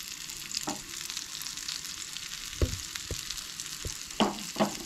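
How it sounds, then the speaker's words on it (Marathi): Prawns frying in oil in a pan give a steady close sizzle and crackle, broken by a few sharp knocks and scrapes of a spatula stirring them, with no voices. "आणि बरी अशी फ्राय करून घेवंक जाय दोनाय सायडींचो"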